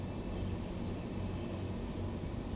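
A Class 142 Pacer diesel train in Train Sim World 4 on the Blackpool branch, running with a steady low rumble and rolling rail noise that fills the clip evenly, with no talk.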